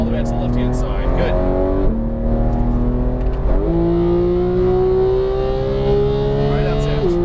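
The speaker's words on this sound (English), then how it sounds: "It's a very high revving engine." A Porsche 911 GT3 accelerating hard on a Las Vegas race track, its high-revving engine climbing steadily in pitch with brief dips at upshifts, loud and close, with a voice speaking over it.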